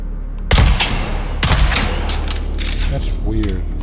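Two sharp, loud gunshots ring out in the video game Dune Awakening, about a second apart, each followed by a brief fading tail over a steady low in-game rumble.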